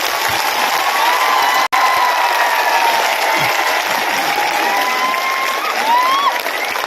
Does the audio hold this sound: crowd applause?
yes